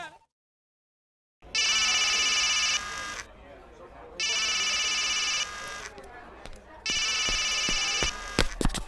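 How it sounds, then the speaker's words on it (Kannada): A telephone rings in three long electronic bursts with short gaps between them, loud and close, with low voices and scattered clicks underneath. "ಗುರುಜಿ, ಫೋನ್ ರಿಂಗ್ ಆಗ್ತಾ ಇದೆ"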